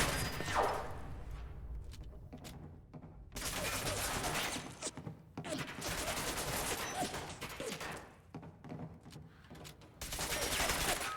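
Bursts of video game gunfire in Fallout 4 during a zombie-survival permadeath run, with dense volleys and rapid automatic fire coming loud in waves, separated by short lulls.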